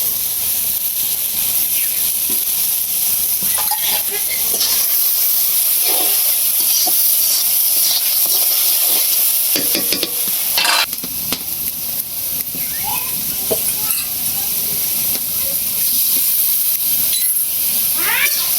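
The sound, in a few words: sautéing spice paste with turmeric, salt, chili powder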